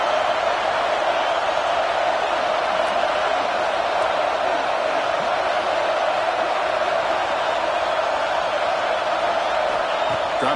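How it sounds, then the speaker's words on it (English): A home crowd at a football game keeps up a steady, dense roar of cheering and noise in a stadium, unbroken and fairly loud throughout, with a commentator's voice likely mixed in. "this home crowd is fired up and ready to make a difference"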